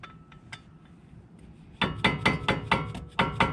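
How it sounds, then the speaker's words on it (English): Hammer striking a rusted screw on a car's front brake rotor: about eight sharp, ringing metallic blows in steady rhythm, close and loud, after a few lighter taps. "So you can do that while you hit it with a hammer"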